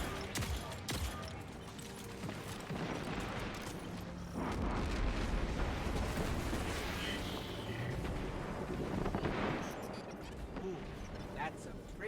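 Gunfire from a gun in Destiny 2, heavy booming shots and explosive bursts in the game mix, with someone talking over much of it.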